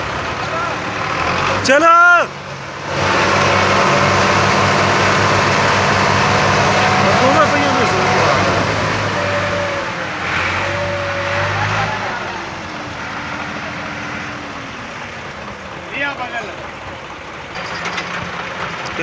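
A Belarus tractor engine, brought into a field to pull out a trailer stuck with a load of potatoes, catches with a loud burst and then runs in a steady, rumbling idle close by while people talk over it.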